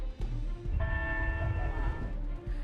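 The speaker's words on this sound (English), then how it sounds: "the bells that are taking a toll on people's sleep will explain why these chimes are causing an uproar" Church bells ring with a sustained, resonant chime, heard over a low rumbling background.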